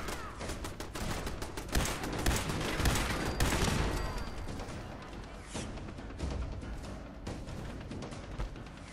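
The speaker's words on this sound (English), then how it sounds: "Oh, we've got turrets." Automated turrets firing in Fallout 4, a dense stream of rapid gunshots and impacts at moderate loudness, continuous across the span with slight swells and no talk.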